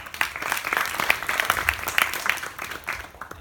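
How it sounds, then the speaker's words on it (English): A church congregation applauds everyone who shared, with many hands clapping in a lively, uneven patter at moderate distance that fades toward the end. "Give a round of applause for everyone who shared"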